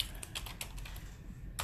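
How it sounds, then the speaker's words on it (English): Typing on a computer keyboard during a live call: quick irregular key clicks in short runs, close but fairly quiet, with a low background hum and no voices. "I love how you're typing"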